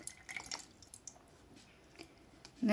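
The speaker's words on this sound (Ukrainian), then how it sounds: "зливається, ви бачите, зливається вода" Water dripping and trickling out of a pot of young orchids growing in moss, soft close-up drips scattered over a few seconds, then a brief louder squish.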